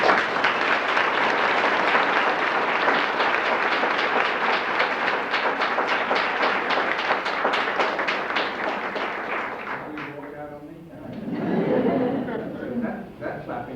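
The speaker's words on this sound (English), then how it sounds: "That clapping translates into a vote or two." Audience at a 1992 reading of Halloween stories breaks into dense, sustained clapping for about ten seconds, which thins out and fades before a voice begins speaking.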